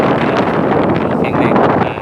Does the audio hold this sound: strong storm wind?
yes